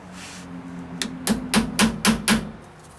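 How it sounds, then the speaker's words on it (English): Five quick, evenly spaced metal taps of a hammer on a sharp punch, marking the pinion nut of a Dana 70 axle on a Dodge Ram 2500, close and crisp over a faint hum. "with a nice sharp punch, we're going to mark the pinion. mark the nut."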